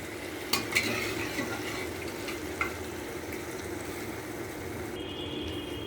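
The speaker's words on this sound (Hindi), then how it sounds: "मैंने सभी दाने डाल दिए हैं और इसको कड़छी के साथ मिक्स करूँगी" Chana dal being mixed into tomato paste with a ladle in a home kitchen, giving soft scraping and stirring under a steady sizzle, with a few sharp clinks of the ladle near the start. No one talks.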